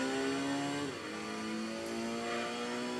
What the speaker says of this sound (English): That NSX sound effects that's come from Gran Turismo 1.